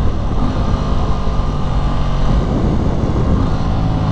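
An Aprilia RS660 sport motorcycle downshifting on a ride: a loud, steady engine roar mixed with heavy wind rush, with a slight shift in tone partway through.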